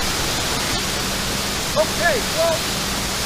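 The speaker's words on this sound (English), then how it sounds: "you probably can't hear me over the noise of the waterfall" A waterfall at Walters Falls in Ontario rushes as a loud, constant broad hiss close by, while someone speaks briefly over it and a few chirps sound faintly.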